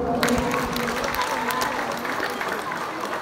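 Applause from an audience at a municipal ceremony greeting the health councillor, a steady close patter of clapping with crowd murmur mixed in.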